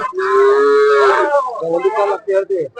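A single long, loud moo from a bull or calf at a early-morning cattle market at KG Temple, close by, drawn out for over a second before trailing into lower grunting calls.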